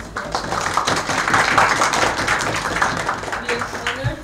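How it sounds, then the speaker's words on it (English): An audience at an international young diplomats' school session gives a short round of clapping, dense and close, with speech running over it. "a round of applause for us"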